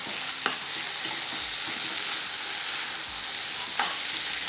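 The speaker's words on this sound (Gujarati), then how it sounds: "હવે બધો મસાલો અને શાક આપણે મિક્સ કરી લેશું." Cauliflower and potato curry with spices is stirred in a hot pan, a steady, even sizzle of frying running throughout with a couple of faint spoon clicks against the pan.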